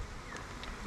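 Honey bees in a queenless hive at a bee yard, a faint continuous buzzing hum heard close with a couple of brief higher whines.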